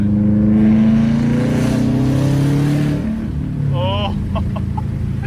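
A Subaru WRX STI with a stage 2 e-tune revs loudly and then falls off, with a few sharp exhaust pops and crackles closing it out, close and dominant.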